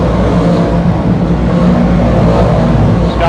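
DIRTcar race cars roar around the dirt oval at Can-Am Speedway, a steady, dense blend of engine drone and rumble held at constant loudness throughout, with no talk.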